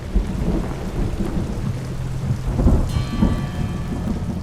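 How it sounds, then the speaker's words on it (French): A daily 4 p.m. downpour on a mountainside at a gold-mining site: steady heavy rain hisses throughout, while deep thunder rumbles roll low and close, swelling twice into louder booms. "C'est l'heure de la verse quotidienne."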